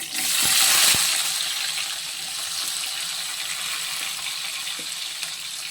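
Onions go into hot oil with spluttered mustard seeds for a prawn curry, producing a broad hissing sizzle that swells at first and then settles into a steady, even crackle, heard alone.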